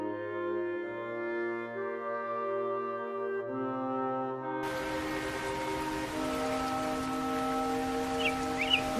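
Rain falls on a farm field in an animated cartoon, a steady hiss that begins midway and continues under gentle background music, with a few faint bird chirps near the end.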